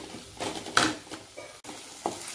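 Flattened rice (aval) tipped into a pan of sautéing mint, giving a brief rattling pour and scrape over a soft steady sizzle, with a few light clinks of a spoon against the pan.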